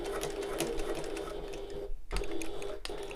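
A sewing machine stitches a shoulder bag in short bursts, a close rapid mechanical clatter that pauses briefly twice before resuming.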